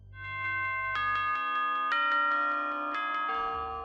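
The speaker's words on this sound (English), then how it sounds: "A grandfather clock chiming the same song every time." A grandfather clock chime plays at the end of a night in Five Nights at Freddy's, a clear bell-like melody of struck tones rising and ringing on, each new note layering over the last, heard alone.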